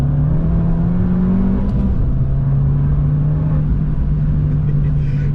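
Abarth 595 Esseesse with a 1.4 litre engine pulls under acceleration, a steady droning engine note rising then settling, heard from inside the car.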